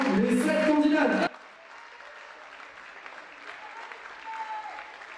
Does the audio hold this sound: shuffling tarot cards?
no